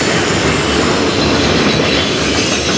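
A Norfolk Southern or CSX freight train rolls past at night in Fostoria, Ohio, a loud continuous roar of wheels and cars close by with a faint squeal of wheels on rail, steady throughout.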